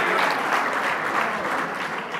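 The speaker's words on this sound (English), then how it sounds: "Let's give him a round of applause." A rally audience at an education event with the New York governor claps in sustained, dense applause that holds steady for the whole stretch, with no voices over it.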